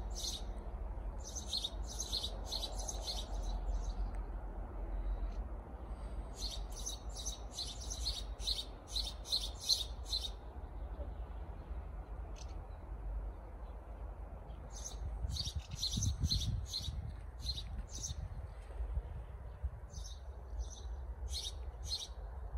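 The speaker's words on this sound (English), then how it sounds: "There is a bird" Small birds chirp near their nest in a park-hotel garden in Russia, with bursts of high, rapid tweets repeating in clusters over a low outdoor rumble, fairly close and clear, with no talking.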